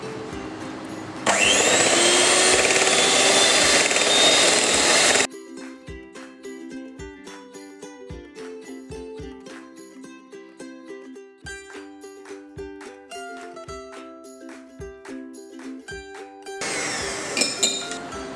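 An electric mixer blends Oreo biscuit ice cream mixture at low speed, a loud, steady, close whir lasting about four seconds. A stretch of light clinking and tapping follows before the mixer whirs again briefly.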